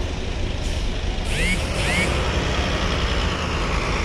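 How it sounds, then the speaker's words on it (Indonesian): Trucks roll into Bakauheni ferry port over a constant diesel engine rumble, with several sharp air brake hisses and squeals bursting out close by. "Pagi ini masih mendominasi kendaraan yang masuk truk ya"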